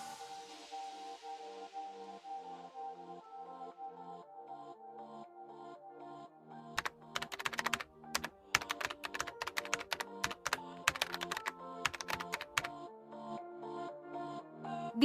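Keys of a computer keyboard typing a code number for an online electric bill payment, a quick run of sharp clacks starting midway over steady background music, with no talk.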